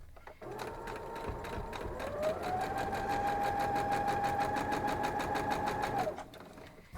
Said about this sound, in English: So we're just sewing our sides on